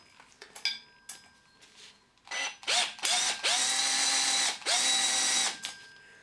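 A power tool spins a universal socket on a nut in a series of short whirring bursts, then two longer sustained runs, close and loud, with a ratcheting mechanical edge.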